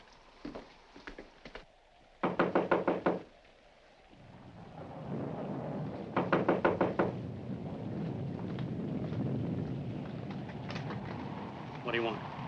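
Several sharp knocks on a front door ring out in quick bursts of four or five raps, repeated a few times amid a thunderstorm with rain and rumbling thunder, with a voice speaking briefly.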